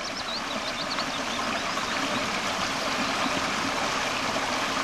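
Continuous rushing of a stream in Scotland, with faint bird chirps high above the steady watery roar.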